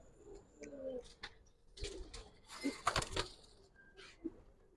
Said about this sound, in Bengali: ভাই এগুলো আমার আতালের কবুতর